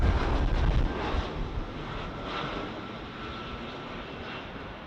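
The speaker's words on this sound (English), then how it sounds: "Let's go over to the next arrival. A321 Delta Airlines" A Delta Airlines Airbus A321 arrives at LAX, its engines a broad rushing roar that is loudest at first and then eases to a steadier distant drone, with some wind buffeting.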